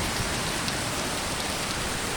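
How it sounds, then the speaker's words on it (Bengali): Steady rain pours down outdoors in strong wind, a dense, even hiss of falling drops and spatter on surfaces that holds constant throughout with no voices. "এই যে বৃষ্টি হচ্ছে"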